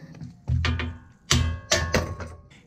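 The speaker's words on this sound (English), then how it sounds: "you're just gonna simply take a hammer and pop it out" Several sharp metallic hammer knocks ring out, irregularly spaced, close by, each blow striking hard to knock out a vehicle tie rod, leaving a brief ringing tail.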